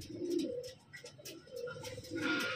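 A red china pigeon coos close by in soft, low repeated phrases, a steady murmuring burble with faint chirps from other birds in the background.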